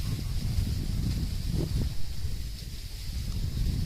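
Strong morning wind after rain across countryside rice fields, a steady broadband rush and buffeting against the microphone, continuous and fairly loud with no voices.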